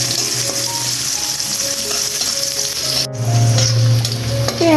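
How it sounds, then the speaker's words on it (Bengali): Chopped onion and garlic fry in hot oil with a dense, close sizzle and scraping stirs, a brief sharp clatter midway, for cooking khichuri with a ridge gourd stir-fry. "বেশ কিছু পেঁয়াজ আর রসুন কুচি দিয়ে দেব"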